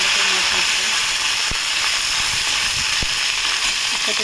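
Dried shutki fish dropped into hot mustard oil sizzles with a loud, steady hiss that runs the whole time, broken by a couple of sharp clicks.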